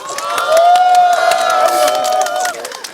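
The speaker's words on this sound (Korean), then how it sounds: "박수 한번 부탁드립니다" At an outdoor candlelight rally in Yeouido, a crowd cheers loudly with a sustained shout and scattered clapping, close and lively, fading toward the end.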